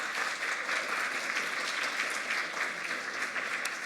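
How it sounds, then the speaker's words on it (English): A symposium audience gives a round of applause for Malcolm Mays, even continuous clapping from many hands at moderate level, heard from some distance. "So can we get a round of applause for Malcolm Mays?"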